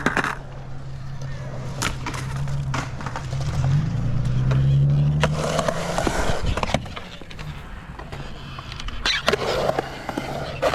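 Skateboard wheels grind and scrape along metal coping during an axle stall, a rough rolling rumble with sharp clacks and knocks, fairly close and continuous throughout.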